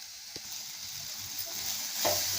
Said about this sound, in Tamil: இப்போ நல்லா வதங்கிடுச்சுங்க.